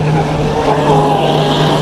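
A Black Jack 42 RC boat motor whines at high, steady revs throughout, loud and close, with a sustained buzzing tone of the boat running at speed.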